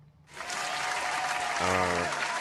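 Burst of applause dropped into a morning talk show, a dense wash of clapping that starts abruptly and holds steady, with a low tonal sound entering partway through.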